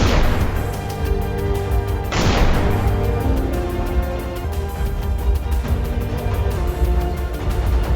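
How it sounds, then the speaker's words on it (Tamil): Booming cannon fire from a 21-gun salute at Delhi's Red Fort during Independence Day celebrations, with two loud, sharp blasts a couple of seconds apart, each trailing into a dense, noisy rumble. "21 பீரங்கி குண்டுகள் முழங்க"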